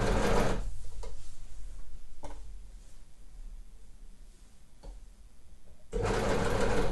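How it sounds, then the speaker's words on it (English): An overlocker sews around a sweatshirt neckline, trimming the fabric edge as it goes: a loud, steady mechanical whir at the start, a quieter stretch with light handling noise, then the machine starts up again near the end. "So that's now overlocked."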